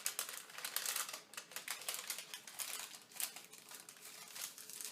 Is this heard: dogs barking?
no